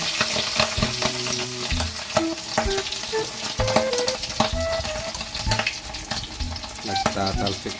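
Pork frying in hot oil, sizzling and crackling continuously with sharp popping splatters, close and loud, with no one talking.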